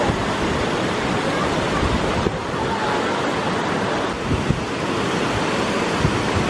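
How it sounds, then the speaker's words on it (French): Waterfall feeding Morskie Oko lake in Poland, water dropping over 200 metres, heard as a loud, continuous roaring rush with steady broadband noise and no voices. "Je suis en haut d'une des cascades qui abreuve le lac de Morsioko."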